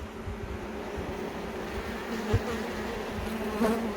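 Honey bees drone close and dense at an opened hive during a queen check, a steady buzzing swarm sound with a couple of brief knocks and swells as frames are moved.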